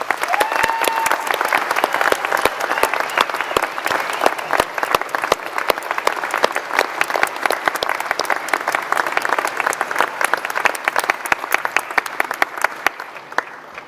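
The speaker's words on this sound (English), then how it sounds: "please join me in giving them a heartfelt round of applause" A large crowd at a university graduation claps steadily and enthusiastically for over ten seconds, a dense, sustained round of applause that tapers slightly at the end.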